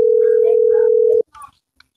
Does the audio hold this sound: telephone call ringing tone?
yes